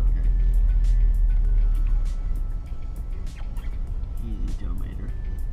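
A learner driver eases a manual-transmission car away from a standstill by slowly releasing the clutch without gas. A low engine rumble drops and steadies as the car creeps off, with people talking inside.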